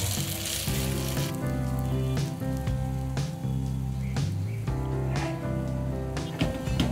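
French toast frying in butter in a pan over low-medium heat, a steady soft sizzle and crackle with no voices.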